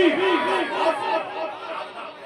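A large gathering at an Islamic jalsa roars back in unison after a Takbir call, a loud, sustained chant of many voices that swells and fades.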